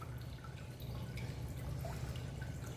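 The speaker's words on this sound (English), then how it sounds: "I kind of just pick it up. I let all the water drain off of it." Salt water drains from a lifted aquarium filter sock, a faint close patter of drips and trickle against low background hum.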